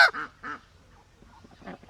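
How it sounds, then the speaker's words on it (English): Ducks at a birds of prey centre give a few short, close quacks: two quick calls in a row, a pause, then one more. "See what's at my legs? Ducks."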